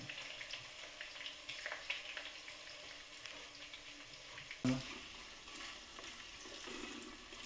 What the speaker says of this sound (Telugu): ఆనియన్ వేసాక కొద్దిసేపు వేగాలండి